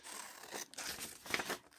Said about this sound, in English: Next, I am going to cut out a roughly the shape of a square.